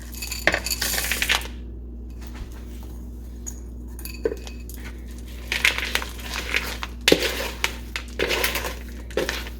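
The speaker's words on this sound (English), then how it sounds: "And just stir your chocolate chips in slowly." Oatmeal chocolate chip cookie dough being stirred slowly with chocolate chips mixed in, making bursts of scraping, crunching and light clinking against the bowl, close and alone with quiet pauses between strokes.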